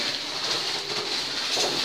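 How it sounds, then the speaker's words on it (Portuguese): A waterfall sound effect from a school sound play gives a steady, dense rushing hiss, like falling water, even and unbroken throughout, with no voices over it. "Então ele escuta a cachoeira atrás dele"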